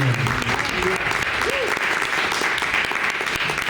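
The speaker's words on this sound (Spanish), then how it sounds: "Denle un aplauso al Señor." Church congregation clapping at the close of a ministry class, dense continuous applause with voices mixed in underneath, steady in level from start to finish.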